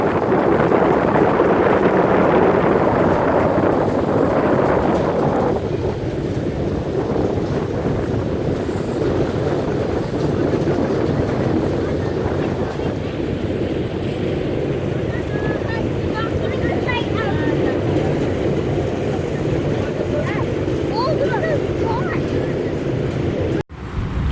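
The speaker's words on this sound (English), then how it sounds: "the boat is taking the turn out of Bainbridge Island" A steady, loud engine drone with rushing water and wind noise from a ferry turning out of Bainbridge Island, continuous throughout.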